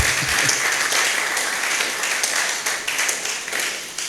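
A church congregation applauds with a sustained, dense burst of clapping from many hands that thins into scattered claps toward the end, with no talking.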